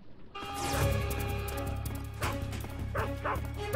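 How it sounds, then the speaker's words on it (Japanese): Dogs bark and yip in Metal Gear Solid 3, several sharp close barks with whimpering tones layered over game music, no speech. "ワンワン来た。"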